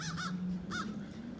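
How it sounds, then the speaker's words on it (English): Crows caw outdoors in three harsh, rasping bursts spaced across a moment, fairly close and loud over a steady low hum. "What are the crows squawking at"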